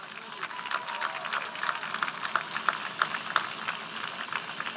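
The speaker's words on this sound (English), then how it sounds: "a round of applause for Wendy Weber" A crowd at a live outdoor event in Times Square applauds, with scattered sharp claps standing out over a steady murmur of crowd noise.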